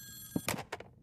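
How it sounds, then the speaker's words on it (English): A short, faint burst of a telephone ringing, two quick ring pulses heard alone in a quiet room. "my phone rang."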